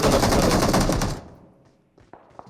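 Automatic weapon fire in the video game PUBG Mobile, a loud rapid burst of shots for about a second that cuts off, followed by a few faint scattered clicks and thuds.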